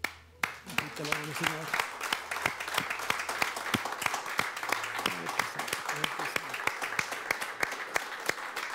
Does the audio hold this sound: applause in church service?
yes